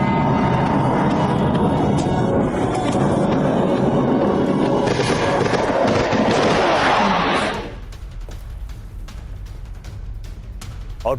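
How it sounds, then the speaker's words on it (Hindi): Bombs dropped by a Su-25 aircraft exploding on Ukrainian positions: dense, loud, continuous booming and roaring blasts that cut off abruptly, leaving a quieter rumbling, crackling aftermath. "Su-25 विमान से यूक्रेनी ठिकानों पर कैसे बॉम्ब बरसा गए"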